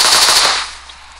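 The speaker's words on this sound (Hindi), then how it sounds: "नॉन स्टॉप बुलेट फायर करनी होती है, एक एक गोली नहीं निकालनी होती।" Nonstop machine gun fire in the PUBG video game, a loud, dense, rapid burst that fades over its final half second.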